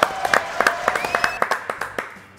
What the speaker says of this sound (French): Applaudissements pour Fred Tanto